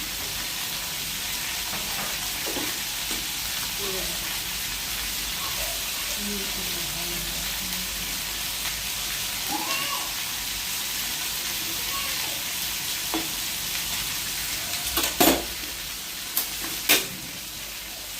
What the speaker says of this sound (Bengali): সরিষার তেল দিয়ে রান্না করতেছি আমি ভাজা করেছি সরিষার তেল দিয়ে